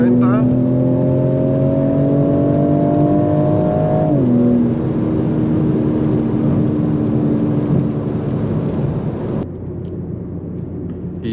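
A 2021 BMW M4 Competition accelerates hard, its engine note climbing through gears with a shift near the middle, loud and close inside the cabin, then the roar drops away abruptly near the end.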